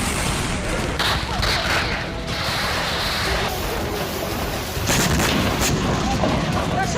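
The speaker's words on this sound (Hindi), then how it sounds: "विस्फोट की वजह से हथियार गोदाम धू धू कर जल गया।" Heavy, rumbling blasts and crackling bangs from an explosion at a burning weapons warehouse, continuous and loud, with a sharper surge of booms partway through.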